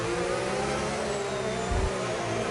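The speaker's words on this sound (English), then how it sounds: "We'll just listen to these cars struggle for traction around these corners." Race car engines drone and whine steadily through the Brazil track corners in a sim racing event, holding low revs with a faint low thump partway through, no voices.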